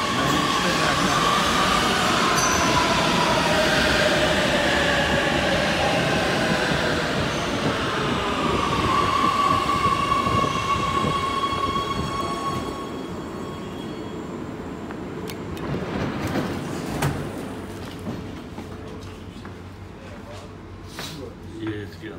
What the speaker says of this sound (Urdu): یہ ہماری ٹرین آ گئی ہے، میں نے اس پہ بیٹھنا ہے۔